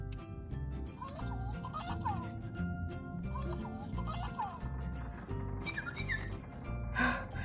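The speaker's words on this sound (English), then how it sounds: "There is a bird in the bathroom." A bird clucks and gobbles in repeated bursts inside a bathroom, close and fairly loud, with a louder squawk near the end.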